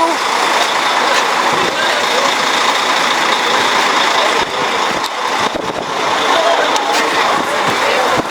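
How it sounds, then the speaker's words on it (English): A shuttle bus engine idles near the Great Egyptian Museum gate to the Giza pyramids, a steady low rumble with scattered clatter, loud and constant under the surrounding activity. "Alright, onto the shuttle right away."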